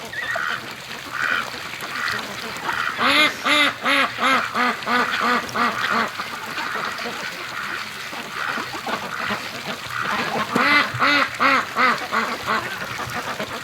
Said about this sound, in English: think we got a Muscovy thinking about flying